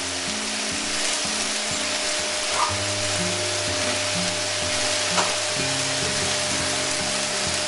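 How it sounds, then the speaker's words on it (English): Ribeye steak is stir-fried in a pan, a steady, close sizzle with occasional scraping stirs, under a low background hum and no talking. "We're going to stir fry that around, and we're going to add in our seasonings."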